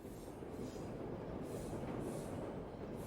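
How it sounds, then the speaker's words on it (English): London Underground tube trains rumble past behind a tall brick wall, a continuous loud low roar with rattling wheels and rail noise filling the whole stretch. "behind which tube trains thundered by"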